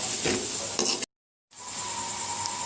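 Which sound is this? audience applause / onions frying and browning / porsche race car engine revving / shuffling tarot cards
onions frying and browning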